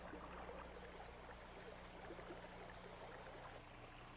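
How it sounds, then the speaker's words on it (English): An indoor brook runs through a building lobby as an urban water feature, giving a steady, even rush of flowing water that stays soft and continuous throughout with no voices. "Here's a brook running through a lobby."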